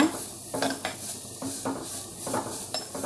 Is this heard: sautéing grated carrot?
yes